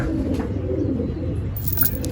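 Pigeons coo in low, murmuring tones close by, with a steady background hum and a few faint higher chirps near the end.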